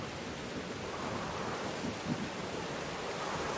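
Storm ambience in the video game Whispers of a Machine, a constant loud wash of heavy rain with a low rumble of thunder swelling briefly in the middle.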